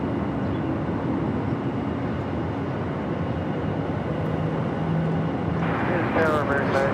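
Southwest jet airliner rolling for takeoff on runway 25 right at Phoenix Sky Harbor, a broad, steady engine roar that builds slightly near the end, while a voice talks over it.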